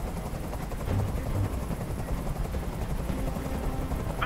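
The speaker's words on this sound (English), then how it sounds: "Tell that helicopter to get out of here." Steady whirring rotor drone of a helicopter in a video game with low rhythmic thumping, continuous and fairly loud throughout, no voices.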